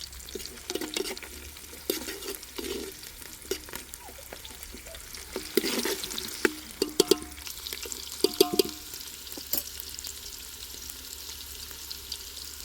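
Onions and green chillies frying in a pan, a quiet steady sizzle with intermittent stirring scrapes and clatters, louder bursts in the middle, no talk.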